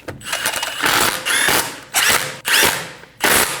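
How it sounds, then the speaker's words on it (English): A ratchet snugs down lug studs on a 2012-2022 Volkswagen Passat 2.5L wheel, giving loud, close bursts of rapid clicking in about five quick strokes with short pauses between them. "Snug down the lug studs."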